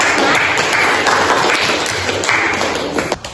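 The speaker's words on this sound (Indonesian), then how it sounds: "Beri tepuk tangan untuk kita semua." Audience applause during an Indonesian-language school literature discussion: dense, sustained clapping from a room of people, steady and fairly loud throughout, tapering slightly at the end.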